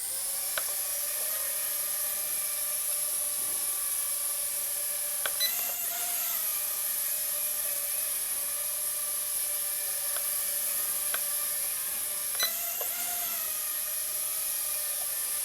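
A Loolinn X26 toy drone flying indoors, its small propellers giving a steady high-pitched whine that holds throughout, with brief swells and dips as it maneuvers nearby.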